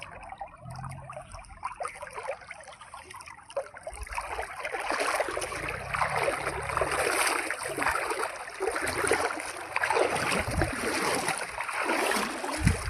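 Water of the Rupen river rushes and trickles around someone standing in the middle of the stream, a steady close wash that swells louder after the first few seconds and continues without talk.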